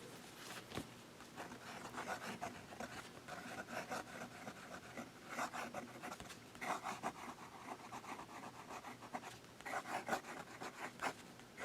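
A fine-nib fountain pen scratches across a Rhodia dot pad, a faint close-up rasp of strokes in short bursts with brief pauses between them.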